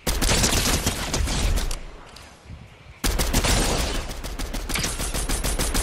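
Pistol gunfire in the Fortnite video game: rapid bursts of sharp, loud shots fire in quick succession, pause briefly midway, then resume as an intense, steady volley.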